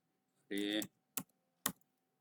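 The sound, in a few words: typing on a computer keyboard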